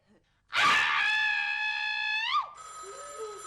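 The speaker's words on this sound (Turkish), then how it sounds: "son bir defa bağırmana izin veriyorum hadi" A single loud, sustained scream rises sharply and holds for about two seconds, then gives way to a high electronic ringing tone.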